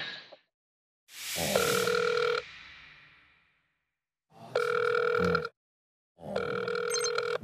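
An outgoing telephone call ringing back in steady tone bursts, three long rings separated by short silences, clear and fairly close, with no talk over it.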